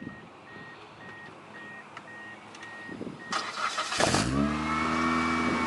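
A Mitsubishi Eclipse cranks and catches, its engine starting up loudly and settling into a steady, throaty idle after a few seconds of quiet background hum.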